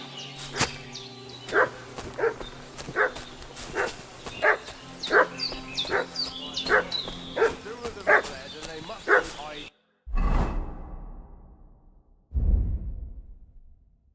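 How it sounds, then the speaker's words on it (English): A dog in Kingdom Come Deliverance 2 barks repeatedly in a steady series of sharp yaps over ambient game sound, then stops as two heavy impacts land. "What's that dog making such a fuss about?"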